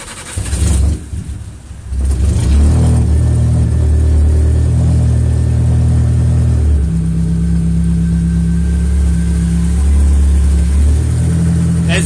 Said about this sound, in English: I can rev the engine all the way.